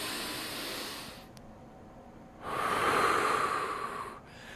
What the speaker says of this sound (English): do some deep nasal breathing